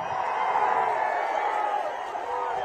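A large crowd at a political rally in Palnadu roars and cheers in a steady, continuous wash of massed voices, with whoops rising from the throng throughout.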